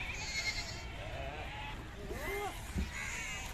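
Goats bleat at a large livestock market, several short wavering calls at moderate distance amid a faint crowd murmur and background chatter.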